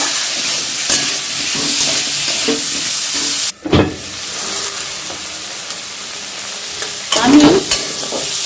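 Mixed vegetables for navratan korma, including potatoes and carrots, sizzling loudly in a pan, with stirring scrapes, a brief pause in the middle, and a clatter near the end.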